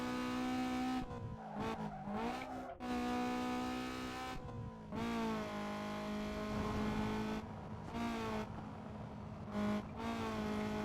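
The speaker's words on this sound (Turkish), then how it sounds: "arabanın gazı kestikten sonraki sesi çok az geliyor" Car engine tones in Need for Speed Underground 2 rise and fall with revving pitch, interrupted by repeated tire skids and squeals, steady and close with no talking.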